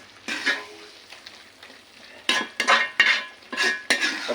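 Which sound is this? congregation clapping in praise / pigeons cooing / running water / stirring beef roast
stirring beef roast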